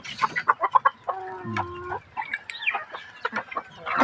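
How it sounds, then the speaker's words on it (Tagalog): Chicks and chickens cluck and cheep close by, giving short chirps and a few longer calls in an irregular run at moderate volume. "Nakawalan ko na itong 5 piraso na sisiw."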